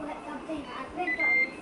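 A Ninja Foodi pressure cooker timer beeps as it finishes a seafood boil, a couple of short thin electronic tones standing out above a murmur of talk and kitchen noise.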